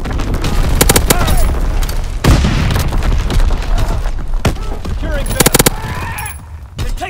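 Call of Duty WW2 multiplayer combat is loud and dense, with rapid gunfire bursts and heavy artillery booms layered together and game voice callouts running through the chaos.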